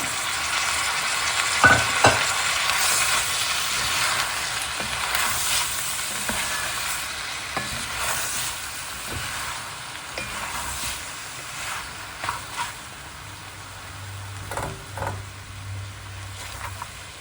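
Boiled potato and carrot pieces go into a frying mutton stew and are stirred, a continuous close sizzle with irregular scraping and clunking strokes of the spoon against the pan, and no talking.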